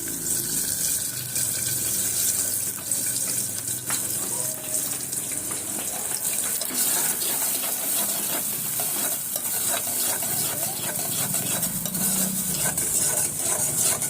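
Brinjal and chana dal curry with tomato being stirred in a pan, a continuous frying sizzle with soft scraping strokes, close and steady, with no talk.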